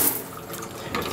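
Water streams steadily from a hotel room shower in Kyoto, a continuous close hiss and splash lasting about a second with no voices.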